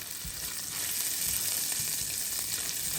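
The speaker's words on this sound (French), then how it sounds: "je viens rajouter donc ici mes ciboules avec mon ail. Alors on vient faire revenir le tout." Scallions and garlic sizzle in hot olive oil in a pan, a steady close hiss of frying with a few soft stirring knocks underneath.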